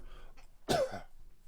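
A single sharp cough with a throaty rasp, preceded by a couple of soft throat-clearing sounds, close and fairly quiet in a still room.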